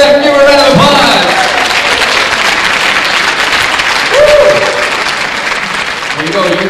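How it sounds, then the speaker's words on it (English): Studio audience applause on a television quiz show, a broad steady wash of clapping with voices talking over it at intervals. "Give her a round of applause."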